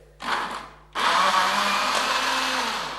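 Blender pureeing bananas whirs loudly in two bursts, a brief spin-up followed by a short pause and then a sustained steady grind that continues to the end.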